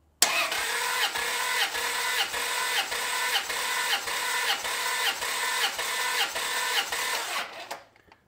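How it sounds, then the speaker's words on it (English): A Ferrari F355 engine cranks over on its starter for a compression test, a loud, even rhythmic churning with about a dozen regular compression pulses before it cuts off and fades to silence. "we're just going to crank it over and count the compression hits on cylinder 1"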